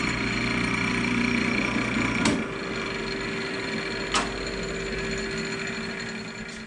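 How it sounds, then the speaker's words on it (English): A Baldor bench buffer runs steadily after being switched on, with a constant motor hum and whine close by and two brief sharp clicks partway through. "Now we can go ahead and turn it on and give it a test."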